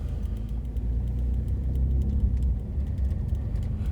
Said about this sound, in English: Another car coming out, so I'll just move over.